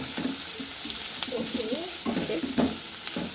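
Mixed vegetables for hakka noodles are tossed vigorously with a spatula in hot oil, giving a close, continuous sizzle broken by scraping stirs, with a faint voice briefly in the background.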